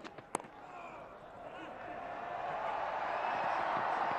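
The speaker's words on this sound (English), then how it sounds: "the loud cheer is for the 100 partnership" A large cricket crowd at a Pakistan versus New Zealand Test, on the fifth day, swells into a loud, sustained cheer for a hundred-run partnership, a broad roar that builds steadily and stays strong to the end.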